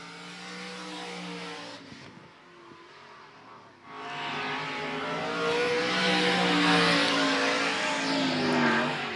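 Race cars at Golden Triangle Raceway Park during a Spring Havoc event roar past on the track, engines droning loudly, fading briefly, then surging back with rising revs as the pack accelerates by.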